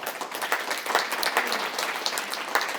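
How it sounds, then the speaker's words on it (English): An audience at an HIV stigma summit applauds, a dense, steady patter of many hands clapping at once, heard alone without talk for its short length. "please give yourselves another round of applause for being here."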